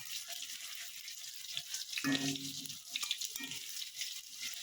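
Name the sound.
potatoes frying in oil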